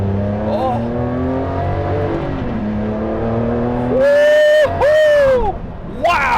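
Maserati MC12 supercar on a driving pass, engine rising in pitch as it accelerates, then loud, sharp upshifts with rapid pitch drops and renewed revving, close and dominant throughout.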